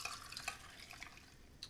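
A spicy basil mojito mocktail trickles and splashes faintly into a glass, with a few soft drips and light clinks over quiet background.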